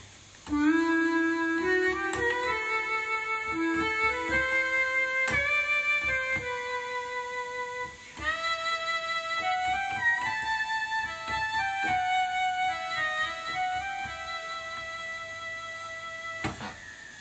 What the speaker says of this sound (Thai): ต่อไปเป็นเสียงฟุตครับ